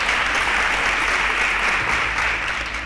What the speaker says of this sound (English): Round of applause for Kamsi.